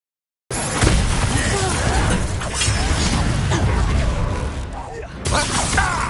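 A fire-casting Incendio spell from the wizarding game Hogwarts Legacy, a sudden loud whooshing, crackling burst with shattering, smashing layers that runs steadily for several seconds, then a brief dip before resuming.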